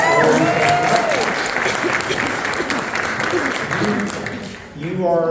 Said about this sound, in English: Let's give our young people a round of applause.